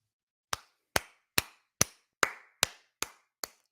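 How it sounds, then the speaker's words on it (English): Eight sharp, evenly spaced claps ring out alone in a slow, deliberate rhythm about half a second apart, each crisp and close with a short decay. "Slow clap for Dennis Prager"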